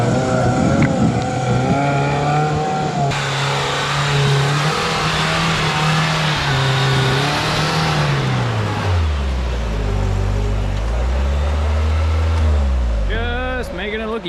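An off-road rig engine roars at wide open throttle while climbing a hill, loud and sustained with pitch rising and then dropping into a deep low drone, as people talk over it.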